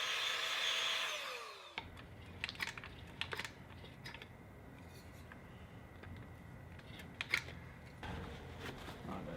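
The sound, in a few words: blowing out a hole in stucco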